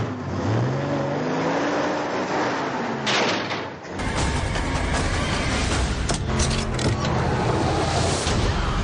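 A vintage car in a Star Trek film trailer drives and roars, loud engine revving with a sharp cut midway into a fuller, brighter burst of motor noise and clatter, mixed with music-like tones.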